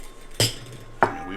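A knife cuts through food for a French onion pizza on a board, making two sharp, close knocks about half a second apart against a quiet background.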